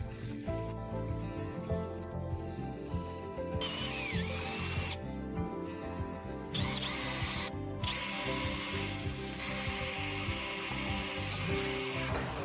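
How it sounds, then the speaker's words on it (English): An electric drill whines and grinds through the metal side door of a 2024 Ford Courier van, drilling 4mm holes at close range, its pitch shifting as it bites, with brief pauses between runs. "Drill all 4 holes on the side door to 4mm through."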